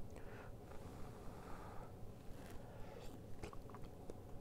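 Close, quiet chewing on a bite of hot beef stew made in a pressure cooker, with soft wet mouth sounds and faint crunches repeating steadily for a few seconds, no talking.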